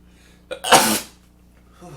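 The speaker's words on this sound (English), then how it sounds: "I'm about to sneeze." One sharp sneeze bursts out close up after a short intake of breath, then fades into quiet.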